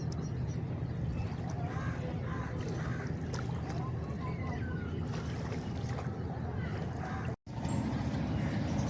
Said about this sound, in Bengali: একটা ট্রলার যাচ্ছে, ওদিক থেকে একটা বোট আসতেছে।